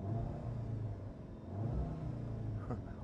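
Engine of a 2017 Audi TTS 2.0 TFSI idling and running steadily, a low rumbling hum with a slight swell in the middle, heard alone without talk.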